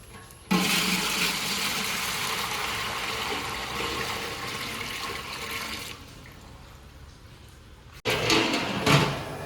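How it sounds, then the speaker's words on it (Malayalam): Water is poured into a large copper pot on a gas stove for cooking ten kilos of biriyani rice. It makes a sustained rushing splash for several seconds, eases off, then a knock and a fresh burst of splashing. "ചെമ്പ് വെച്ചിട്ട് നമുക്ക് വെള്ളം ഒഴിച്ചു കൊടുക്കാം"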